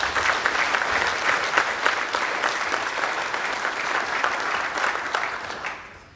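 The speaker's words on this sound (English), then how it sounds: "Please join me in a round of applause for our fantastic Nigerian hosts." Steady applause from a conference audience at the African Land Forces Summit in Nigeria, dense and even throughout before fading out at the end.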